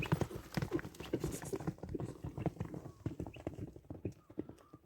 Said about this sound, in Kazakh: Анда эмесе бир чабып көрөлү, атты сынайлы.